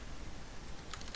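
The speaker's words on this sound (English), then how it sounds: "I'm typing" Soft, quick typing on a computer keyboard, a short run of light key clicks heard close up in a quiet room.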